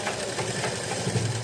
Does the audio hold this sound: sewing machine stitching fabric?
yes